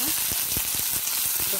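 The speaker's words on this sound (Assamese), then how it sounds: "আগতে এই মাছখিনি অকণমান ফ্ৰাই কৰি লওঁ" Dried fish frying in a little oil in a pan, a steady close sizzle with soft crackles and a few stirring knocks throughout.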